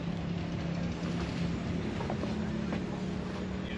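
A 1917 Buckeye tiler bucket trencher with a big radiator and old magneto runs at a steady, continuous low idle, its engine drone loud and even throughout with no breaks.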